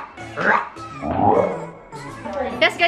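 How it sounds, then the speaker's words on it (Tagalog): A black dog gives a few yipping, whining barks close by, mixed in with people talking over it. "Black Dog. Black Dog"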